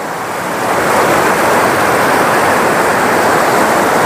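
Clear mountain stream water rushing steadily over rocks at Rishikhola in Sikkim, a loud, close, continuous wash of flowing water with no talk.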